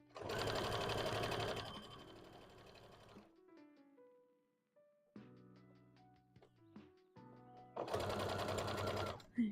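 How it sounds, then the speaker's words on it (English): A sewing machine stitches with black thread in two loud, steady bursts at the start and end, with quieter clicks and handling of fabric in between. "So I think I'll just sew like this right here in black."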